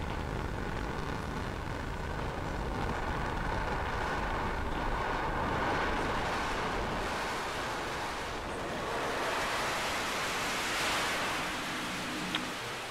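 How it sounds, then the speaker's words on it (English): SpaceX Falcon 9 first stage firing its landing burn over Landing Zone 1 at Vandenberg in fog, heard as a steady, continuous broadband roar that swells gently and holds for the whole stretch, with no voices. "Stage 1, landing burn has started. Landing burn has begun."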